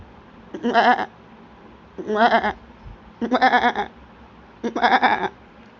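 A human voice imitates a goat bleating, giving four loud, wavering baa calls spaced about a second apart, close to the listener, during a comic interview.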